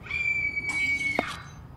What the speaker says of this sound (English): Not sure how we recognized the scream.